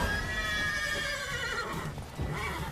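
A horse in the video game The Witcher 3 gives a loud, drawn-out whinny close by, with faint hoof clatter beneath it.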